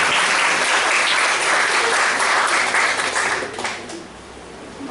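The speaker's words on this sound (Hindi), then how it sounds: "एक ताली यीशु के लिए हो जाए।" Congregation applause at a church sermon, a broad sustained burst of clapping that thins and fades out toward the end.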